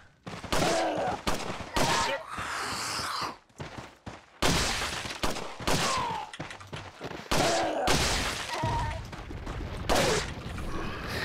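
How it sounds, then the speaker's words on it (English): Rapid bursts of gunfire from shooting an enemy in Resident Evil 4, loud and repeated in clusters with short pauses, with a voice speaking at times between the shots. "I'll just shoot him to death, fuck it."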